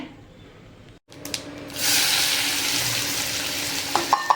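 Garlic and onion sizzle loudly in a pan of hot oil and butter, a steady frying hiss after a brief pause, with a few light clinks of a utensil near the end.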